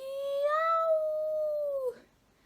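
A human voice mimics a coyote's call in a single sustained, wavering howl that rises slightly, holds, then drops off sharply at the end, loud and close, followed by near silence.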